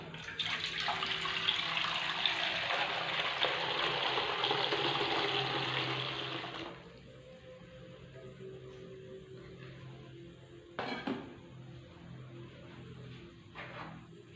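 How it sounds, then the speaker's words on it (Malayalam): Warm milk is poured into a vessel for setting homemade curd, a steady rushing liquid pour for several seconds that stops, leaving a quiet room with a few soft clinks. "ആ പാത്രത്തിലേക്ക് ഈ പാലിനെ ഒഴിച്ചു കൊടുക്കാം"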